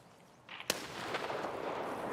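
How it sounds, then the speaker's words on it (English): A grenade goes off in a multiplayer shooter game near a main bridge, one sharp blast that trails into a sustained rumbling roar and hiss. "Grenade out."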